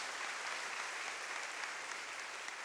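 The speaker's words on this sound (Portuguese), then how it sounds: "Pode aplaudir." A congregation at a Catholic Mass applauds during the homily. The clapping is soft and distant, a continuous wash of many hands with no voices over it.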